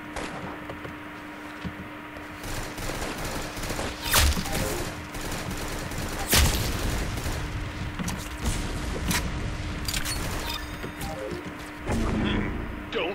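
Gunfire in the Roblox shooter game Arsenal: scattered shots and short bursts over a steady game background, with a couple of louder cracks and a player's voice heard in places.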